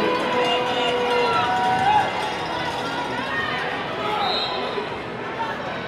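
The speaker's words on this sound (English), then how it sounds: "The crowd really getting into it." Crowd at a roller derby championship bout, a continuous loud roar of cheering and chatter filling the arena, with skate and floor noise and an announcer talking over it.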